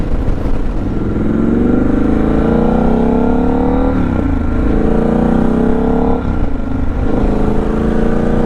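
Several motorcycles ride past on a road into a small mountain town, a loud continuous engine drone with shifting pitch as the bikes pass close by one after another.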